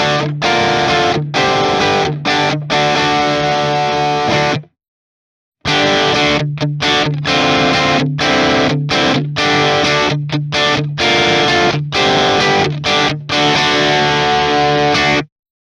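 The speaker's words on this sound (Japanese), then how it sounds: "デコの歪みはテープのサチュレーションを再現したものなので、一般的なオーバードライブのペダルとかとはだいぶキャラクターが違ってます。" Electric guitar played through a Strymon DECO tape saturation pedal, loud and distorted with bright, crisp highs, strummed in bursts with short stops and one longer pause midway, no talking.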